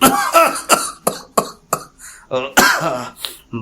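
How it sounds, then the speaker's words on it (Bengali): In an audio drama, a voice performs a man coughing after lighting a cigar: a quick series of harsh, close coughs and throat-clearing bursts, loud and uneven. "ভদ্রলোক একটি চুরুল ধরিয়ে খক খক করে কাশতে কাশতে বললেন"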